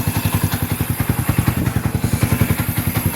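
A Yamaha Sniper 150 motorcycle with an injector problem runs close by, its engine thumping in a fast steady rhythm with loud mechanical clatter throughout.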